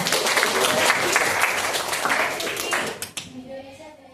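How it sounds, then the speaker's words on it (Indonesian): Classroom applause rings out as a crowd of students claps together, dense and loud for about three seconds before dropping away to quieter room sound. "Beri tepuk tangan buatnya"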